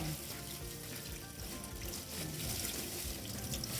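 Silver barb fish are washed by hand in water, a close, continuous slosh and trickle as the fish are rinsed and squeezed, with faint speech in the background.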